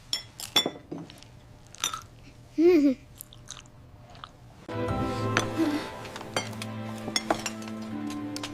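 Breakfast at a home table: sporadic clinks of glass and dishes with cutlery, chewing and biting sounds close by, a brief vocal sound midway, then denser clattering of tableware toward the end.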